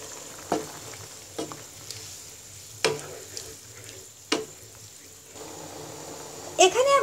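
Boiled, cut potatoes frying in a wok, a steady sizzle broken by several sharp scraping stirs at uneven intervals, close and clear, with a few brief metallic clinks near the end.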